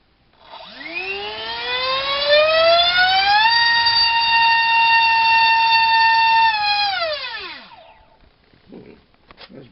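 Rewound DYS 2205 brushless motor on a 3-cell pack, spinning a smaller prop: a loud whine rises steeply in pitch as it spools up, holds a steady high tone for several seconds, then winds down and stops, with a little rustle afterward.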